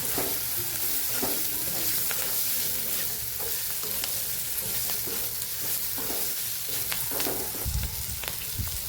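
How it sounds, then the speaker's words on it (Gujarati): Chillies sizzle steadily in a pan with salt and coriander-cumin powder, stirred continuously with scraping spoon strokes and a few louder knocks toward the end, and no voices heard. "એક નાની ચમચી જેટલું ધાણા જીરું ઉમેરશું સરસ આપણે મિક્સ કરી અને કાતળી લેવાના છે મરચાંને"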